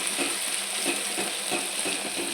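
Gongura chutney, boiled and ground greens, is stirred into a sizzling tempering in a pan, giving a steady close frying hiss with soft rhythmic scraping strokes and no talking.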